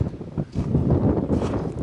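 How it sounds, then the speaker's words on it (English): Strong, gusty wind buffets the microphone high above tree line on Pikes Peak, a continuous low roar that swells and dips in waves over the whole stretch. "It's been pretty windy up here above tree line."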